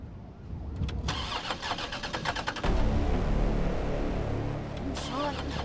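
A car engine cranks and starts in the Resident Evil 3 Remake, then settles into a loud, steady rumble alongside game sounds, with someone talking over it.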